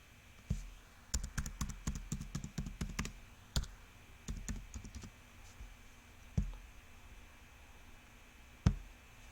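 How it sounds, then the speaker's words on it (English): A username and password typed on a computer keyboard, with bursts of quick, close key clicks, short pauses and a couple of isolated harder taps. "To log in, type the username and password given on the website."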